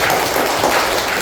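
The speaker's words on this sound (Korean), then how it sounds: "박수 한번 쳐주십시오." Audience applause at a Buddhist dharma assembly, with steady, dense clapping from a crowd that fills the short moment.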